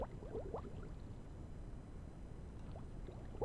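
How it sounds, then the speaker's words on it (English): A bubbles sound effect from the Scratch sound library plays as soft, quiet gurgling pops over a low, steady watery hiss, like an aquarium. "we're going to see what these bubbles sound like"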